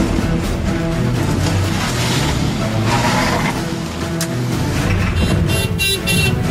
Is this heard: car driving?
yes